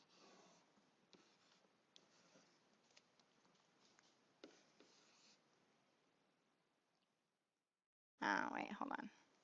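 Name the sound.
writing down practice problems by hand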